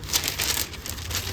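Wax paper crinkling as it is laid over a bass fretboard during a guitar build, a brief close rustle with soft crackles.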